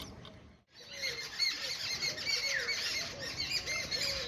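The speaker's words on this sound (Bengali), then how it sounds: "পাখিগুলো অনেকক্ষণ থেকে ডাকাডাকি করছে" Several birds call from a tree in a rural garden, a steady run of chirps and squeaky notes overlapping at moderate distance, with a brief dropout near the start.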